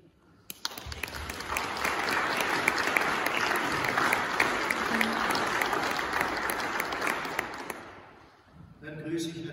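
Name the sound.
applause in church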